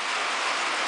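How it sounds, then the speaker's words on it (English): Steady rain falling outdoors near a horse being groomed, a dense continuous hiss that stays even and close throughout with no voices over it. "it's raining"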